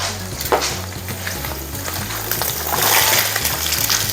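Chopped onion sautes in a pot for chicken asado, a steady close sizzle and crackle with scraping stir strokes and a low rumbling hum underneath, growing slightly louder toward the end; no talking.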